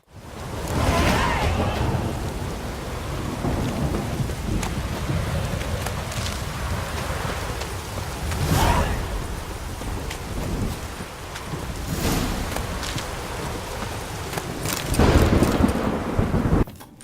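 Thunderstorm with heavy rain in The Witcher 3, a steady broadband wash of downpour with rolling thunder swelling around the middle and a louder burst near the end, no voices.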